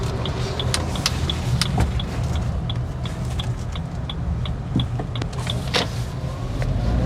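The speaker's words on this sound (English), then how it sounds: "I am going to take a U-turn now." Inside a Toyota Urban Cruiser Hyryder strong hybrid SUV, a steady low road and cabin drone runs throughout, joined by an evenly spaced ticking like a turn indicator and a few soft clicks, no voices.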